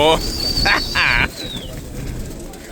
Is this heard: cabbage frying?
no